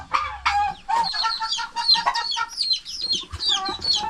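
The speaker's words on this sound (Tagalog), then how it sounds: "Manok na ito ni pisa." A chicken clucks repeatedly at close range on a Filipino farm, with a steady run of short, busy calls and no talking.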